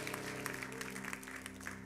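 A church congregation applauds during a service, with dense, fairly faint clapping sustained over a low hum and steady tones.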